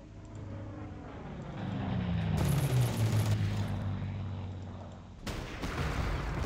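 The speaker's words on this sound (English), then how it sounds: "Strafing to reduce entrenchment." Aircraft strafing machine-gun fire in a WWII strategy game set around Warsaw: an engine drone swells in as a plane passes, then bursts of rapid gunfire crackle near the end.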